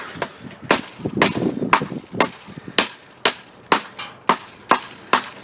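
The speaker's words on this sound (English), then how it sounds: "let's clean this up by taking these smaller branches off. And we'll just sort of whack them off as we go" A Schrade SCH56L fixed blade knife whacks small branches off a stick in a string of sharp, close woody chops spaced about half a second apart, with a brief rustle early on.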